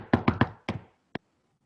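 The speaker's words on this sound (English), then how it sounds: "So I knock at the door, guys." Knuckles rap on a door, three quick knocks followed by a fourth and then a single lighter tap. Each knock is close, dry and clear against a quiet background.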